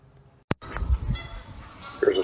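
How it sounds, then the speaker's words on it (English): Geese on a lakeside peninsula honk loudly and close by, giving a few sharp calls over rustling outdoor background noise. "Here's a short video of the geese that had been tearing up her peninsula"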